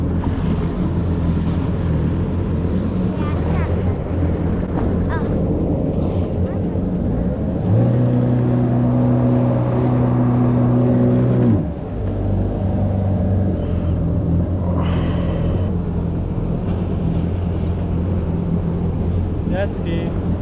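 A jet ski rides over a bumpy ocean, its engine giving a steady close drone mixed with wind buffeting and splashing water, with a brief louder, higher-pitched surge in the middle as the craft accelerates.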